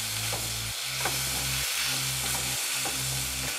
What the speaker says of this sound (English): add them to the mushrooms, turn up the heat on the mushrooms, and finish it off in a single pan as a mixture